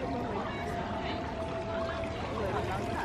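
A river stream flowing past a watermill in a model village, a steady gentle rush of water that continues throughout at moderate level.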